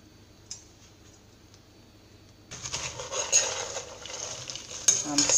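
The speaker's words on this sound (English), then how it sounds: "you can hear the popping sound that it makes when the chocolate is parching" Homemade Jamaican chocolate pops and crackles while it is parched and stirred in a pot, a quiet start with one tick, then sustained scraping and sizzling with scattered sharp pops.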